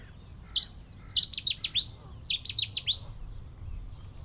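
A Cetti's warbler bursts into song in short, loud, sharp phrases of rapid emphatic notes, two to three quick bursts separated by pauses over a low background hum; no voices.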